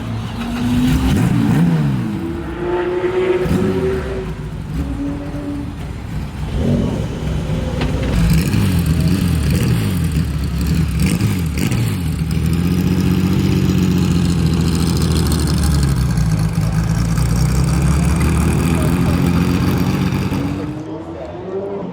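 A Porsche Cayenne fitted with an FI exhaust fires up and revs hard, a loud deep rumble swelling into repeated throaty rises and falls before settling into a burbling idle, with voices talking over it.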